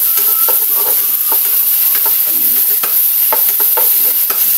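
Pork frying in oil with garlic and onion for a mixed adobo, a loud steady sizzle with repeated sharp spatula scrapes and clacks against the pan, close and continuous.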